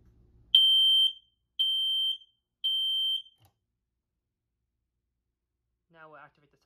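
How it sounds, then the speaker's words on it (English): A Fire-Lite smoke detector's local sounder beeps three times in a loud, steady, high-pitched tone, each beep about half a second long, followed by silence and a brief faint noise at the end. "First, we'll start off with the test switch, which will show how the sounder only sounds but not the panel."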